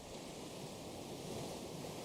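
Steady ocean waves and surf wash continuously at a low, even level, a soft broadband roar with wind-like hiss and no voices.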